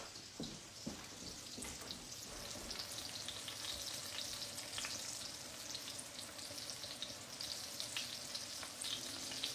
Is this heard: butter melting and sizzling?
yes